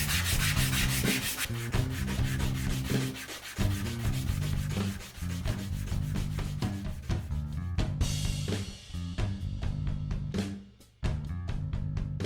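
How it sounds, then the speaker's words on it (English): Sandpaper rubs steadily over freshly cut wooden necklace pieces, a loud, close scratchy sanding with repeated strokes and short pauses. "I'm using sandpaper to clean up the cuts, and remove my pencil marks from drawing up all the necklaces earlier."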